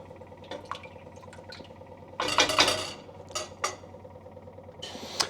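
Coconut curry mussels stirred in a metal pot, with scattered clinks of shells and utensil, a louder scraping stir in the middle and wet sloshing, fairly quiet and close.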